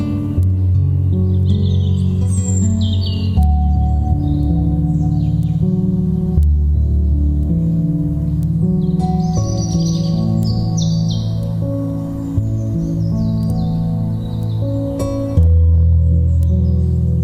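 Captive birds, including parrots such as a bare-eyed cockatoo, chirp and call at breakfast feeding time. Bright, overlapping chirps and squawks sound close over a constant low background hum, with no speech.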